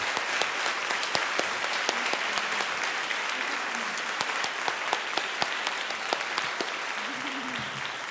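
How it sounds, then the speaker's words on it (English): A conference audience applauds Danielle and Jay, a steady wash of clapping from many hands with sharp individual claps standing out, moderately distant and continuous, with faint voices beneath toward the end. "If everyone could please give a round of applause to Danielle and Jay."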